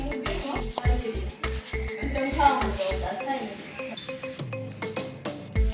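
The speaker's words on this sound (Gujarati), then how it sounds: "તો આમાં આ એક મોટો વાટકો ભરીને આપણે ખાંડ ઉમેરવાની છે અને પછી બરોબર હલાવી દઈશું" A spoon stirs sugar into cut mango pieces in a bowl for mango murabba, making rhythmic scraping and clinking strokes, with a voice speaking faintly in the background.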